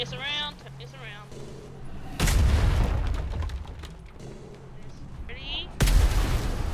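Ship's guns firing in a Royal Navy roleplay video game: two loud, close booming salvos with long rumbling tails, set among voices talking over the radio.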